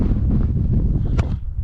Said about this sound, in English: As you can see, super windy.